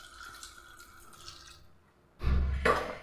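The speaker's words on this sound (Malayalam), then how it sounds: "ഇതിലേക്ക് നമുക്ക് വെള്ളം ഒഴിച്ചു കൊടുക്കാം" Water is poured into a pressure cooker pot while cooking, a short splashing gush arriving after a quiet stretch of faint kitchen sounds, close and fairly loud.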